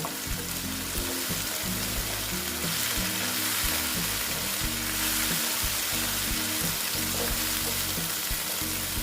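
Steady, loud sizzling of boal fish frying in oil with salt, with a constant crackling hiss and a low hum underneath throughout.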